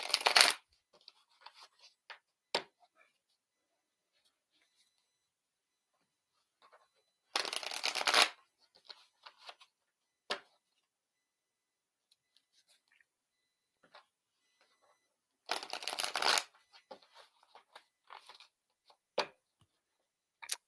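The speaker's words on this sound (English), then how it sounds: "I'm going to shuffle my cards 3 times." Tarot cards are shuffled in three quick riffling bursts, spaced several seconds apart, with soft ticks and handling noises in between in a quiet room.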